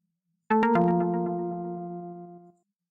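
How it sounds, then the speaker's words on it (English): A stream alert chime like a cell phone ringtone plays once, loud and clean, made of stacked harmonic tones with a few quick plucked notes at the start before a sustained chord fades out over about two seconds. "Sounds like a cell phone tone."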